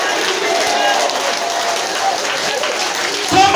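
A church congregation claps for Jesus during a prophecy service. Dense, steady applause fills the whole stretch, mixed with crowd voices and shouting.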